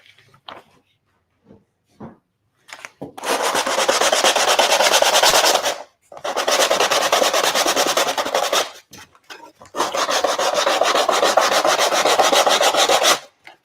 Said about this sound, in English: I'm going to sand this side down.